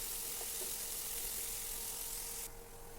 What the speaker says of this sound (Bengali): তো আমি মশলাটা ভালো করে ভেজে নিব।